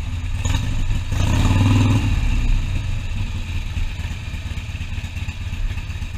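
A Harley-Davidson Iron 883 motorcycle engine runs in traffic with a low, steady rumble that swells briefly, then settles back to a throbbing idle.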